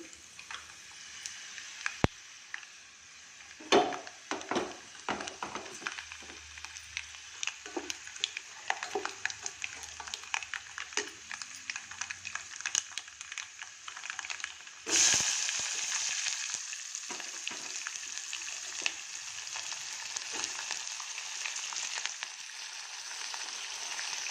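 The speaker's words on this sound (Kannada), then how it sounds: "ಎರಡು ಈರುಳ್ಳಿ ಕಟ್ ಮಾಡ್ಕೊಂಡಿದ್ದೆ ಅದನ್ನು ಹಾಕ್ತೀನಿ" Chopped onions fry in hot oil with dried red chilli and curry leaves, a low continuous sizzle with scattered ticks and scrapes; partway through, the hiss jumps louder and stays bright and steady, alone without talk.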